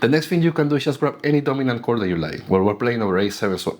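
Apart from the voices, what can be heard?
No everyday noise stands out behind the speech.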